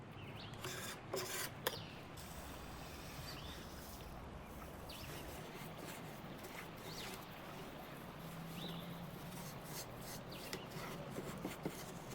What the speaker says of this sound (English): Using a metal scraper like this can be risky.